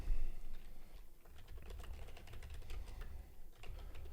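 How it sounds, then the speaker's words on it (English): Rapid typing on a computer keyboard during a live day-trading session, a dense, uneven stream of close key clicks running throughout at moderate level, without speech. "If you do hear typing, that's just me making alerts to my private community."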